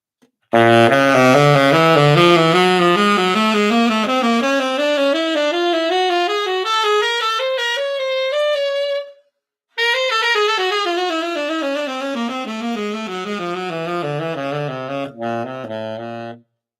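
A melodic instrument plays a scale in thirds, rising steadily then descending after a short pause, each note clear and even in tempo, close and fairly loud with no talking.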